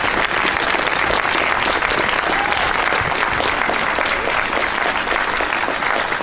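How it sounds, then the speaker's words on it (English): A large outdoor crowd at a March for Our Lives rally applauds the Parkland shooting survivors, dense continuous clapping with scattered cheers holding at full loudness throughout. "I want to have one more round of applause for the survivors of the Parkland shooting"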